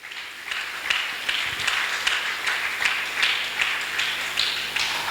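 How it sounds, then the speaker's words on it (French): A church congregation claps in praise for about five seconds, a steady, moderately near run of hand claps that pulses in loose waves. "Donnons une acclamation au Seigneur"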